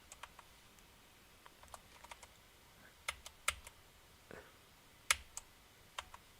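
Someone types on a computer keyboard, sparse and irregular clicky keystrokes with a few louder taps, quiet and nearby against a faint background.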